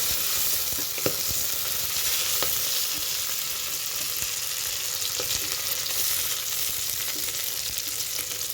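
Fenugreek, mint and coriander leaves frying in a pan for mutton gravy curry give a loud, steady close-up sizzle with occasional sharper pops and light stirring.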